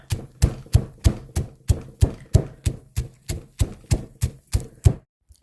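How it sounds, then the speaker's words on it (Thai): Toasted white sesame and peanuts are pounded in a mortar with a pestle: about thirteen heavy, evenly spaced thuds at a steady rhythm, close and clear, with silence after the last strike. "เราก็จะนำงาขาวที่เราคั่วไว้กับ ถั่วลิสงนะจ๊ะ มาโขลกให้เข้ากันนะคะ"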